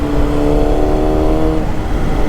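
A Honda CBR 600RR sport bike engine runs hard and loud close by, a dense continuous snarl that rises briefly in pitch, with no voices.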